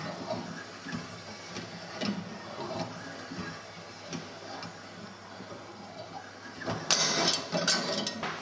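A tube being wound by hand into a coil for an HHO generator gives faint, close mechanical ticks and creaks in an irregular rhythm, ending in a few sharper scraping clicks.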